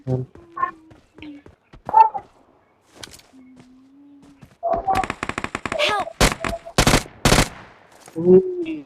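In a video game, bursts of rapid gunfire rattle out while an opponent is killed, with short tonal game effects and scattered sounds before the loud volleys.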